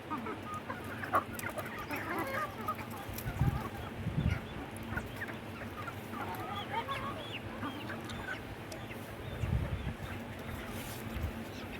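Hens cluck and chatter steadily at a moderate distance, with occasional louder squawks and a constant outdoor murmur beneath.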